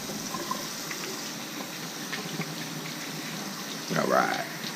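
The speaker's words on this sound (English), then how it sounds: "Let's wash our hands." Water runs steadily from a kitchen tap while hands are rinsed during pot roast prep, a constant close hiss with a brief louder splash near the end.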